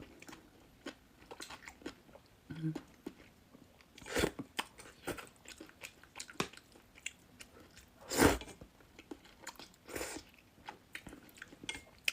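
Close, crisp biting and crunching of spicy noodles with tofu skin during a mukbang, with wet chewing between louder bites at an irregular pace, and no talking.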